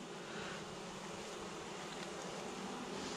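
A bee buzzes at a beehive, a faint continuous hum set against a soft, steady outdoor background.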